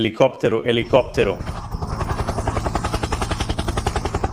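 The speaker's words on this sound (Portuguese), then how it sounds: "Ah, sim, helicóptero." A voice speaks briefly, then a rapid, rhythmic chopping thrum like a helicopter's rotor takes over, steady and fairly close.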